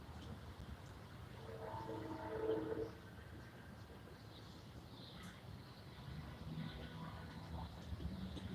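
A six-car Metro-North train at Botanical Gardens Station, a faint, distant rumble under wind noise with a brief swell of tonal rail sound early on, no talking.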